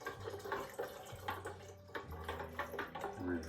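Cranberry-orange session mead being poured while stirred, an irregular close trickle and slosh of liquid with soft clinks and swirling, moderately quiet and uneven in rhythm.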